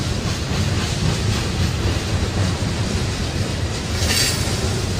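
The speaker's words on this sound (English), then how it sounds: "When the train has passed" A train rolls steadily past near East Palestine, a loud continuous rumble with wheel clatter and a brief hiss, close by and without talk throughout.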